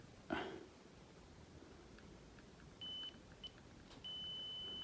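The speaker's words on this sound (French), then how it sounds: "Tu vois que ça bip." A continuity tester on car stalk switch wires emits thin electronic beeps, one brief, one short blip, then a sustained tone, faint against low background hiss.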